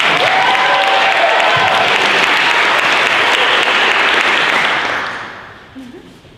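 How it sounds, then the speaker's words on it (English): An audience at a science lecture competition applauds as the first speaker is introduced, a dense, sustained wash of clapping that holds steady for about five seconds before fading out, with a few faint scattered claps remaining. "A round of applause, please."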